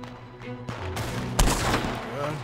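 Gunfire in Red Dead Redemption 2, a loud close burst of shots followed by a ringing rumble and echo, with some game sounds beneath and no clear talk.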